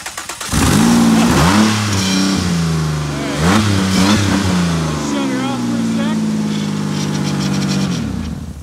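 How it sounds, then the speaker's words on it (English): A straight-piped Ford Escape engine running with no oil revs loudly in rising and falling surges, raw and harsh up close, while people talk nearby. "It's straight piped and there's no oil in it."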